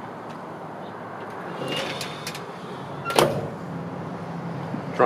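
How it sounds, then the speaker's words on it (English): The trunk lid of a 1955 Chevrolet 210 hardtop gasser is lowered with a few faint rattles, then shuts with a single solid thunk, followed by a smaller knock at the end, quiet and close. "Trunk closes nice."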